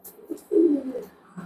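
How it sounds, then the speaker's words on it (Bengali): A male Omani teddy pigeon coos up close, a short rising burst of throaty cooing with a few softer notes before and after. "এটা হলো ওমানের একটা মর্দা কবুতর ভাই"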